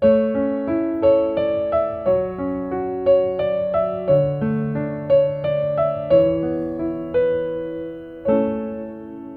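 A piano plays a slow series of harmonized chords, one after another at an even pace, each ringing briefly, with no voices.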